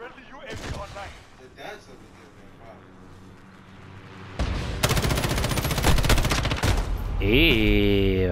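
Heavy-recoil gunfire in Call of Duty: Warzone, a dense burst of loud rapid shots in the second half that follows quieter game ambience, with a sharp metallic tail at the end.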